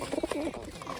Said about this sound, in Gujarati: તો ફટાફટ આમાં કબૂતર બાજે છે, હું તમને બતાડું.